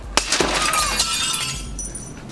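A 3 mm sheet of float glass breaking when struck by a piece of wood, a sharp crack followed by bright shattering and tinkling shards falling and settling, close and loud.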